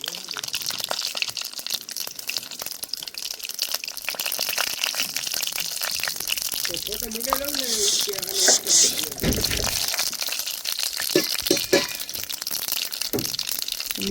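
Mustard seeds pop and crackle in a little hot oil while tempering khaman, an irregular stream of sharp snaps and sizzles close by, with a person talking over it.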